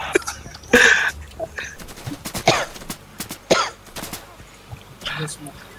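Several harsh coughs and throat-clearing bursts, scattered irregularly over a few seconds, close to the microphone amid quieter background noise, during an online game of Insurgency.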